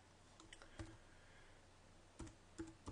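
Someone types an email address on a computer keyboard, giving a few faint, sparse key clicks in short bursts over quiet room hiss, with no talking.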